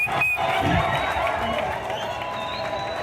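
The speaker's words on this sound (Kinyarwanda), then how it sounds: "twakire n'amashyi menshi cyane" A concert crowd claps and cheers at a stage show, a broad wash of applause that peaks early and then settles, with a voice over a loudspeaker calling out above it.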